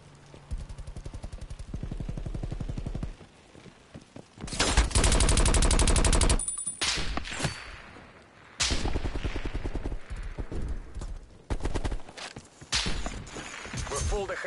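Automatic gunfire in the shooter Call of Duty Black Ops Cold War, with long rattling bursts, one loud sustained volley in the middle, and scattered shots and footsteps, with a player talking intermittently over it.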